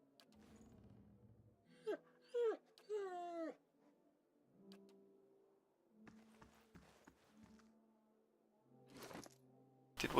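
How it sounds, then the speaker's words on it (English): A dog in the fantasy role-playing game Pillars of Eternity whimpers in a few short rising whines close by, followed by quieter scattered game sounds and footstep-like taps. "this must be the dog that she was talking about"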